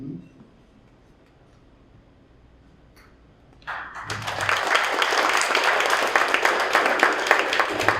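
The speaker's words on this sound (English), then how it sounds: "Clap it up, clap it up." An audience at a pitch night event breaks into applause, starting after a few seconds of near quiet with a faint voice, then building into loud, sustained clapping from a crowd that carries on to the end.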